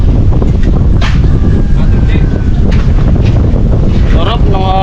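Wind buffeting the microphone in a continuous loud rush on a hot day, with a person's voice and exclamations faintly audible under the gusts.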